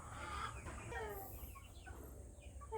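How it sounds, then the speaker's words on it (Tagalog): A native hen, a large broody one, clucks in a short run of calls close to the microphone, with faint other bird sounds behind it. "ito po ay isa nating native hen"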